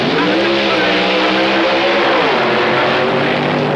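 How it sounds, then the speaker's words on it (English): 1964 Indy Nationals drag race with a supercharged fuel-injected Chevrolet Fiat against a stock Chevy: a dense, continuous engine roar, loud and steady throughout, rising slightly in pitch partway through. "The supercharged fuel-injected Chevrolet Fiat of Davis and Ingram against Charlie Smith's plain vanilla Chevy. Here we go."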